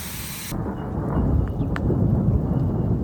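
Thunder during a heavy thunderstorm outdoors, a deep continuous rumble building after a faint start and rolling on steadily under steady rain, with no voices.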